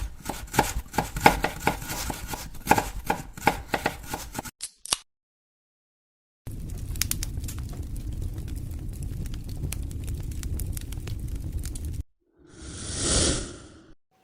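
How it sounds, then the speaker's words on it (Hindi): Onion and cucumber for raita are cut by knife in a home kitchen, producing quick, close rhythmic chops in two bursts separated by silence, followed by a short swishing sweep. "इसके लिए मैं प्याज और खीरा कट करने लगती हूँ"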